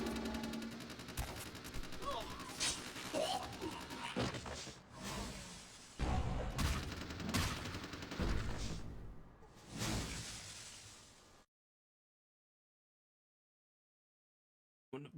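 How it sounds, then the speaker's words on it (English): Video game bursts of rapid machine-gun fire and single shots with whooshes and crashes, loud and busy, then cutting abruptly to silence. "Oh, into gunfire."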